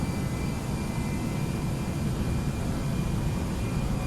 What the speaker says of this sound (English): We're going to stabilize the engines and then set thrust to man flex.